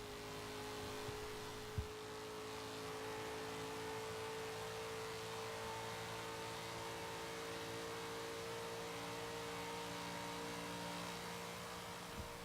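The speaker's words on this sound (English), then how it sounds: "the Dodge Challenger's over 400 horsepower V8 has surged it into the lead ahead of the Camaro" A Dodge Challenger's V8 of over 400 horsepower accelerates during a race against a Camaro, heard as a steady, fairly faint engine drone and whir held for about twelve seconds at a distance, with no speech.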